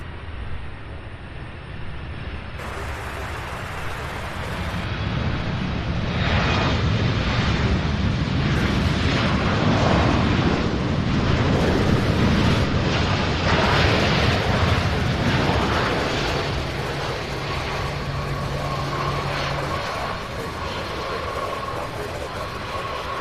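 A jet lands at Louisville International Airport, a broad, rising and falling roar swelling over about ten seconds and then easing, heard from a distance through heavy wind buffeting on the microphone.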